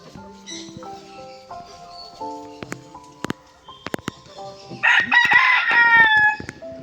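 A Bengtem rooster at a bird park in Rapdentse, West Sikkim, crows loudly and close toward the end, after scattered clucks, chirps and sharp clicks from other fowl.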